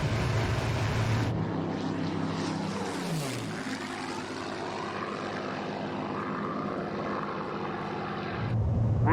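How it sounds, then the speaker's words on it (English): A Spitfire flies past during an airshow display alongside the Battle of Britain Memorial Flight Avro Lancaster. A loud piston-engine roar swells and its pitch falls sharply as it passes overhead. The droning engine noise continues behind it. "The Spitfire should be running back in now to rejoin us for our final formation pass at the conclusion of our display"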